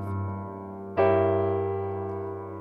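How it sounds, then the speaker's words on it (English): A sustained gospel keyboard chord rings out, then a second, brighter diminished chord on the flat five is struck about a second in and held, slowly fading. "Here comes the diminished on that flat 5."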